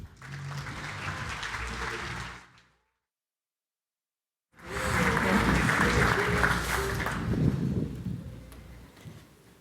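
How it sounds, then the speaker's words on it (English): Conference audience applauding a speaker at an Angular developer event, a dense clatter of many hands lasting a couple of seconds, breaking off into silence, then a second louder burst of clapping that carries on steadily to the end. "let's go ahead and give a big round of applause for Kim."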